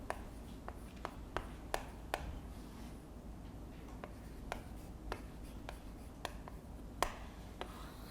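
Chalk or marker writing on a board during a civil law lecture: scattered short taps and strokes over a steady low room hum, fairly faint with no talking.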